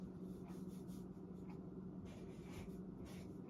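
Marker writing on a classroom board, a steady faint scratchy squeak with short strokes repeating over a constant low room hum, no voices.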